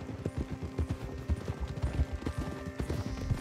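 Horse hooves clip-clop steadily at a walking pace in the video game Red Dead Redemption 2, close and fairly loud, with a continuous rhythmic patter running the whole way through.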